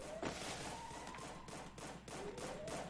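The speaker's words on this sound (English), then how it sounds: "Found the sound of gunfire as Santos move on to 4 kills." Rapid bursts of gunfire from the Free Fire battle royale game during an esports match, a dense continuous volley of shots and thuds running throughout at steady loudness.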